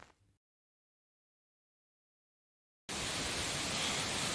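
Shelve waterfall's rushing water bursts in loud and steady after a short faint stretch and a long silent gap, a dense broadband roar filling the rest of the moment with no voices.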